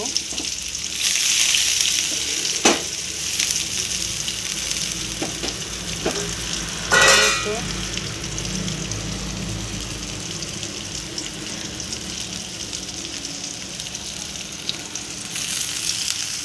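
Chopped onion fries in hot oil with mustard seeds in a home kitchen pan, giving a long, steady close sizzle broken by occasional scraping stirs and clinks.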